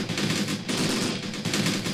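Gunfire in the Graviteam Tactics jungle battle, Operation Hooper: dense overlapping bursts of automatic fire and rifle shots crackling continuously at mid distance, with no voices.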